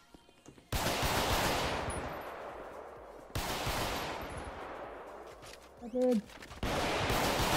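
Sustained bursts of automatic gunfire from GTA V roleplay police firearms, loud and close, in three long volleys separated by brief pauses, with a short spoken phrase in the gap.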